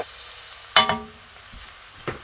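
Surinamese fried rice being stirred in a pan, one sharp scraping clatter of the utensil followed by a softer scrape a moment later over a faint sizzle, close and otherwise quiet.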